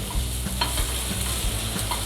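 Spoonfuls of vegetable pakora batter dropped into hot oil, a dense steady frying hiss with soft spoon taps and light scrapes, close up and with no talking.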